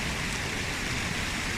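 Steady rain falls on the Cape Wrath Trail during a hike, a dense, even hiss of drops that stays loud and unbroken for a moment, with no voices.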